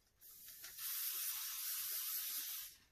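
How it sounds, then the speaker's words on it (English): Silicone spray shoots from a can onto a resin bowl mold in one continuous bright hiss of about two seconds, close and fairly quiet, with faint clicks beneath it. "I thought I'd get my silicone spray and just spray my little bowl just to make sure it's not going to stick."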